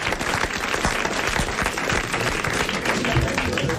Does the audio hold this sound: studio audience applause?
yes